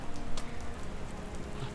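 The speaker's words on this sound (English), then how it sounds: "As I say, it is raining." Steady rain falls in Winter Garden, Florida, a dense, close patter of drops striking surfaces without pause.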